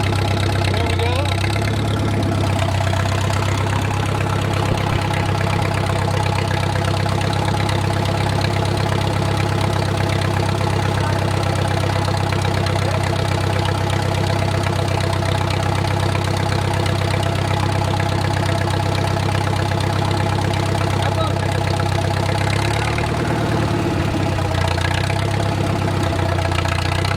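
An old wartime H engine idles steadily after sitting unused for over twenty years, a low, continuous rumble with a faint knocking texture, close and unchanging throughout.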